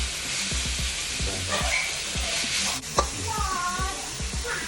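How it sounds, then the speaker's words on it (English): Chicken pieces with lemongrass stir-fry in a pan, a moderate sizzle broken by repeated scraping and stirring knocks, with a brief clatter near the end. "put the chicken into the fry pan and stir it"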